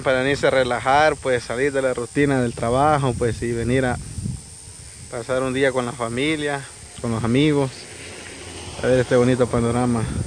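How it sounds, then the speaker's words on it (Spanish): A steady high-pitched cicada drone runs beneath someone talking continuously outdoors on the San Salvador volcano. "y escuchar las chicharras ahí que andan."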